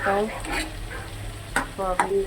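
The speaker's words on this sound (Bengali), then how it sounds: "সোয়াবিন রান্না হচ্ছে।" Tiny mini soy chunks cook in a pan with a spatula scraping and stirring, a few quick sharp scrapes over a low sizzle, close and clear, with no talking.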